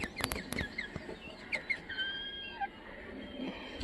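Chickens in a coop cluck and squawk softly at close range, with a few sharp clucks at the start and quieter calls trailing off over low background noise.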